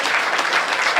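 Brief burst of audience clapping at a Hindi comedy poetry gathering, loud and close, a short dense patter with a faint voice mixed in.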